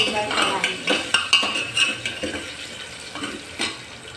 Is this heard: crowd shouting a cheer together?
no